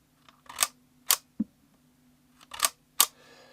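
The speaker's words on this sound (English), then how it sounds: "to fire the shutter, I just simply press the cable release" A Holga camera's shutter is fired with a cable release, giving several sharp, quiet mechanical clicks spaced irregularly over a few seconds against a faint background hum.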